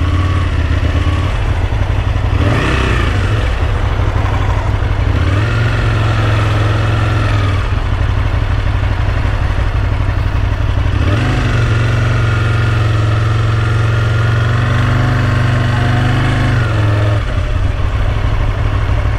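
A car engine drones steadily while driving, its pitch rising with each acceleration and dropping at several gear changes, loud and close throughout with no talk.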